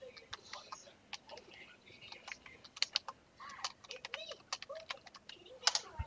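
Computer keyboard keys clatter in quick irregular bursts as a command is typed in, close and fairly quiet, with brief pauses between keystrokes.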